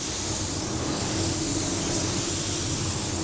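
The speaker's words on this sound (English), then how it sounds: "And I'm still spraying this stuff fairly wet." A loud, continuous hiss of a paint spray gun, a Graco Ultra 9K, spraying paint fairly wet steadily without pause in winter.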